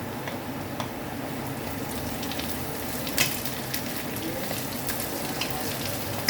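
Onion and ginger sautéing in a pan for a simple home-cooked dish, a steady close sizzle with faint crackles and the odd clink of stirring throughout, with no voices.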